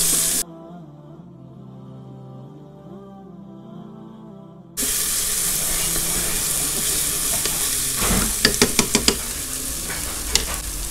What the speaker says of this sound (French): Je le laisse revenir quelques secondes.